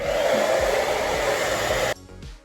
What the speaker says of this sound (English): I'm gonna hold it down. And I'm gonna blow dry